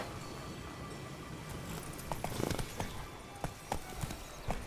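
Roach, a horse in The Witcher 3: Blood and Wine, clip-clops along with a steady run of hoofbeats over a dense ambient game bed, the steps growing more distinct in the second half.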